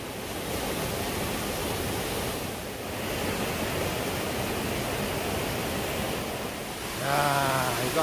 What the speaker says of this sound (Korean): 격렬하게 내려오는 이 폭포를 보십시오